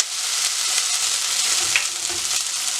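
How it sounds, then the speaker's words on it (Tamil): Onions sautéing lightly in hot oil for a knol khol curry, a steady close hiss of frying running evenly throughout with faint stirring ticks and no voices. "ஒனியன் லைட்டாக வதங்கினா ஓகே"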